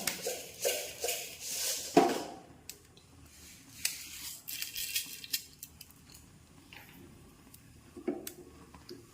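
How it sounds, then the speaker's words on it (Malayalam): Mustard seeds popping in hot coconut oil in a pan, a scattering of sharp little crackles and pops, loudest at the start and thinning out into sporadic faint snaps. "കടുക് ഒന്ന് പൊട്ടട്ടെ"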